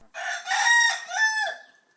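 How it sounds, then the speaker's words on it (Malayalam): A rooster crows once close by, a loud clear cock-a-doodle-doo in several rising and falling segments that ends in a trailing note, with silence around it. "പൂവൻ കോടിയുടെ ശബ്ദം കേട്ടാൽ എവിടെ നിന്നെന്നില്ലാതെ അവൻ പറന്നെത്തും"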